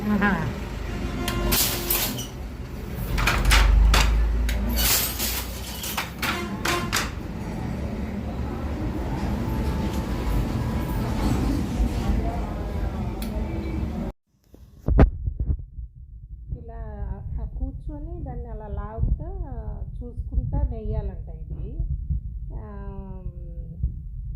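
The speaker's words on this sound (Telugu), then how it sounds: "అలా ఈ మగ్గానికి మోటార్లు పెట్టుకున్నారు ఇది పవర్లూమ్ కాదు హ్యాండ్లూమే" A motorized handloom weaving a Venkatagiri silk saree keeps up a rhythmic, throbbing clatter for the first half, then cuts out abruptly and people talk over a faint background hum.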